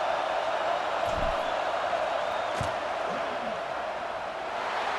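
Stadium crowd roar in EA Sports College Football 26 during a field goal attempt, a steady dense wall of noise with a few brief sharper shouts or thumps rising out of it.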